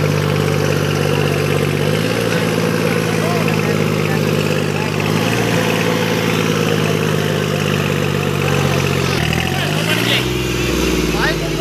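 A Deutz-Fahr tractor engine labours under heavy load after a gear change, a loud, steady low drone running throughout, its pitch dipping briefly around the shifts near two, five and nine seconds.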